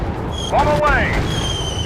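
Bomb burst in a classic warplane video game, a short rising synthetic boom with swept tones lasting under a second, heard over steady game background tones and effects.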